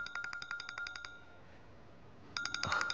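A phone rings in a Chinese drama scene with a rapid, pulsing electronic ringtone. The ringing stops, leaving a short quiet gap, then starts again loud and close.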